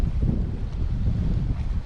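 Strong wind gusting steadily by the sea on a fishing trip, a continuous low buffeting roar of wind noise against the microphone with no voices.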